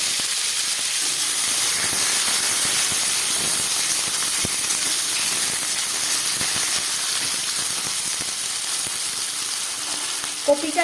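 Potato and cauliflower pieces fry in hot oil in a pan with garam masala, giving a steady, loud sizzle and hiss that carries on evenly throughout, with no voices.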